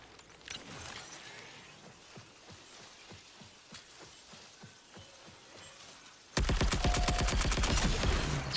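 Automated turret fires in a sci-fi shooter video game: bursts of rapid gunfire, fainter at first, then a loud continuous stream of shots in the final seconds.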